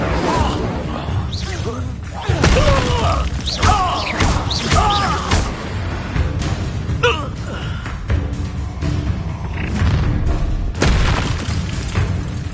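An Incendio fire spell blast, a heavy booming whoosh and crash in the middle of a fight, with several loud thumps and bursts mixed with voices, gasps and shouting.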